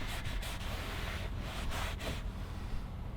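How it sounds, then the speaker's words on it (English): A towel scrubs dirt out of leather in close, continuous rubbing strokes, giving a dense, rough, rhythmic swishing with no voices. "I'm also kind of scrubbing right now with the towels I'm drying"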